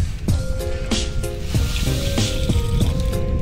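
Liquid glugs out of a bottle into a balloon for a home experiment, poured directly after a funnel failed, making a close, rhythmic series of gurgling pulses with a wet, bubbling undertone.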